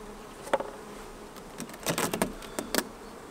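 Honey bees in an opened commercial poly hive with the roof lifted off a now-empty feeder, giving scattered buzzing bursts as individual bees fly close past, faint hum between louder passes.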